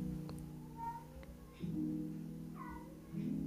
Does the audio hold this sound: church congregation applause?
no